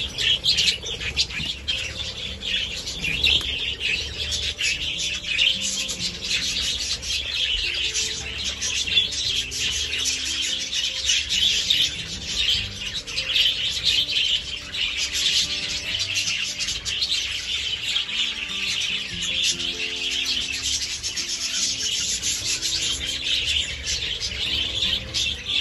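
Budgies in an aviary during mating season, with nest boxes nearby, chirp and chatter continuously in a dense, busy chorus of high tweets and warbles, with occasional wing flutters, sustained at steady loudness throughout with no talking.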